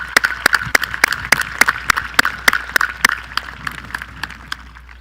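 Scattered handclaps ring out in a steady, fairly quick rhythm from a thin audience at a 2020 high school graduation ceremony, crisp and distinct rather than a dense roar, with no talking.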